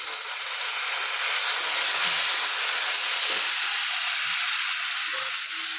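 A loud, steady hiss and sizzle comes from a little water poured into spices frying in a pan with turmeric and chili powder for biryani, close and continuous with no talk.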